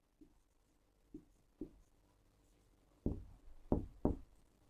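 Pen strokes on paper while a Class 10 polynomial math solution is written out, heard as faint, close scratchy bursts: three short separated strokes, then a denser cluster of louder strokes near the end, with no talking.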